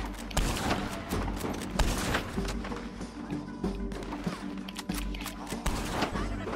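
Sniper rifle fire in the Red Dead Redemption 2 video game: a string of sharp, booming shots with thuds and mechanical clicks, set against dense in-game background noise.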